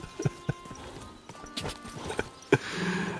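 Horse hooves clip-clopping in the video game Kingdom Come Deliverance 2, several sharp, fairly close hoof knocks spaced irregularly over a busy game soundscape.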